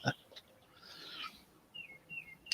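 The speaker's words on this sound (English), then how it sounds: "those of you who can clearly hear birds in the background, yes, I am in fact sitting outside again" Birds sing outdoors in the background, faint chirps and short whistled calls, distant and soft among brief clicks.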